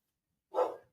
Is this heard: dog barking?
yes